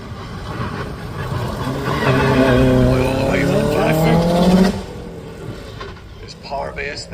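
A Subaru race car at the Craigantlet hillclimb, its engine climbing through the revs in a loud, rising pull that cuts off sharply after several seconds, followed by quieter, more distant engine noise.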